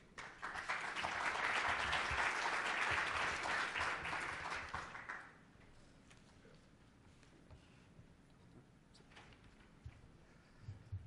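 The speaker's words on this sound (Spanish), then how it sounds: "Fuerte el aplauso." Audience applause welcoming a speaker at a business executives' event in Panama, a loud sustained burst of many hands for about five seconds that then fades to quiet room noise with a few scattered claps.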